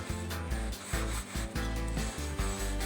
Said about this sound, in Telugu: చూస్తున్నారుగా ఎంత గట్టిగా రుద్దుతున్నాను